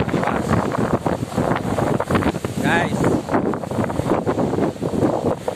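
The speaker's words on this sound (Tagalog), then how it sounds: "malakas ang hangin" Strong typhoon wind in rural Isabela farmland buffets the microphone in steady roaring gusts while someone speaks over it outdoors.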